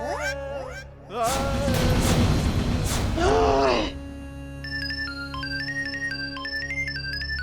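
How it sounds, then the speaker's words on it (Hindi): A phone ringtone plays a repeating electronic melody after a burst of loud noise and a voice, continuing steadily at moderate volume. "किसका बजा फोन?"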